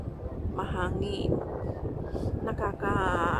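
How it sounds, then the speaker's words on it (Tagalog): Wind buffets the microphone in low, rumbling gusts at night in Tamar Park, with voices talking intermittently over the blustery noise. "Mahangin."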